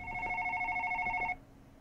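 A telephone rings inside the horror game One Late Night: a loud electronic two-tone ring repeating for over a second, then cutting off abruptly into quiet room hum.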